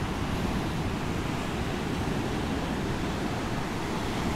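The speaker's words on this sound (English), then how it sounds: "I'm just watching waves." Ocean surf breaking on an Atlantic beach during surf fishing, a steady, loud roar of crashing waves with constant wash and no pauses, heard alone.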